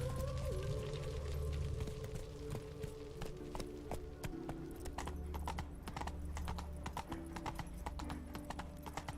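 Roach, the horse in The Witcher 3, trots with a steady, rhythmic clip-clop of hooves over a continuous game soundscape with low sustained music, the hoofbeats even and close throughout.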